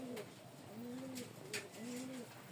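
Faint, soft cooing from a Rajshahi Giribaz pigeon, two or three low rolling coos repeating in a quiet setting.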